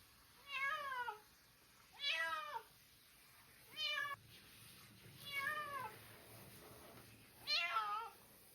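A cat meows repeatedly during a flea bath, five distinct drawn-out complaining cries spaced a second or two apart, close and clear over faint background hiss.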